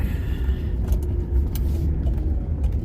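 A 1982 Ford Mustang, recently treated for sporadic stalling and breaking up at higher RPMs, drives along with its engine holding a steady, loud, close rumble.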